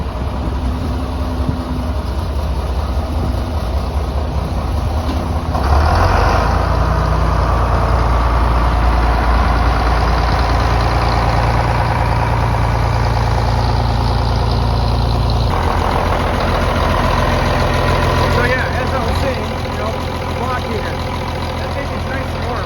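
A John Deere 5010 tractor idles after a cold start, its heavy diesel engine rumbling loud and close for the whole stretch, with a brief rise in revs partway through and a voice speaking over it.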